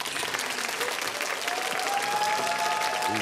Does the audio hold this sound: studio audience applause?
yes